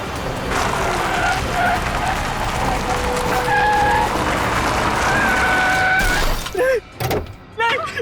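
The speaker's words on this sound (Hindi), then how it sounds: "बहुत कार रेसिंग कर ली, गेम ओवर।" A car races and skids loudly nearby, with a sustained engine roar and several drawn-out tire squeals over about six seconds, then the noise cuts off and short bursts of shouting voices follow.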